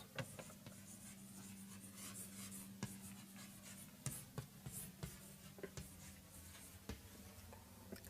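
Marker or chalk scratches as a statement is written on a board in a classroom, faint scrapes and taps in uneven strokes over a steady low hum, with no one speaking.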